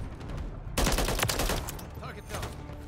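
Rapid, loud Holger 556 gunfire in the video game Modern Warfare 3, a sustained burst of shots that then tails off, with game effects around it and a sharp thump at the end.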